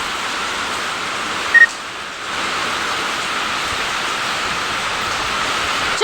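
Heavy monsoon rain roars steadily with a constant windy rush, loud and unbroken, with no voices.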